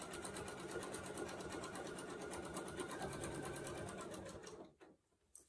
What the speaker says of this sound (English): we'll just finish up this line and just keep sewing